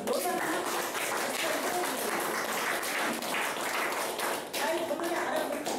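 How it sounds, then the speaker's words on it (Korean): Indoor audience at a Korean lecture clapping along in a steady rhythm, dense and continuous hand claps from many people, with a voice heard faintly underneath. "박수는 다 쳐주세요. 박수."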